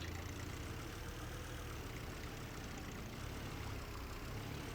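A vehicle engine in Titan Chaser runs at a steady idle after starting, a faint, even low hum with no change in pitch and no voices.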